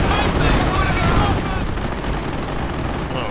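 Hummel 105 artillery firing in a World War II video game, a dense continuous roar of booming shots and gunfire, loud and steady throughout, with voices mixed in.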